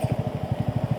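Motorcycle engine running steadily on a forest road through dense woods toward Nainital, a rhythmic throbbing exhaust pulse repeating evenly and close up, with no voices.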